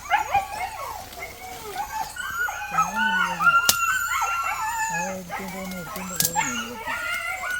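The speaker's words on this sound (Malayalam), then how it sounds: "അവിടുന്ന് പട്ടിക്കുഞ്ഞിൻ്റെ കരച്ചിൽ കേൾക്കുന്നത്." A puppy cries and whimpers from an empty, overgrown plot, a string of high, wavering yelps and whines rising and falling in pitch, loud and close, with short pauses between calls.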